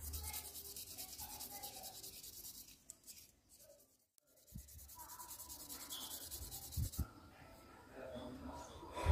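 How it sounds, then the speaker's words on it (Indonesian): Steady scratchy rubbing of fine 1000-grit sandpaper against a hard gemstone, continuous strokes with a brief pause midway, fairly quiet and close. "Sekarang kita masuk ke tahap pengamplasan kedua dengan menggunakan amplas ukuran"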